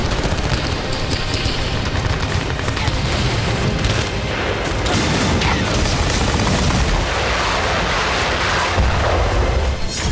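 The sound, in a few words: battlefield gunfire and explosions, Ukrainian assault in war footage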